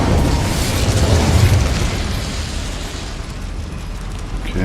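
A fiery Incendio spell cast in the Hogwarts Legacy video game: a loud, broad whooshing burst that swells and holds as one sustained roar for several seconds, with a small flare near the end.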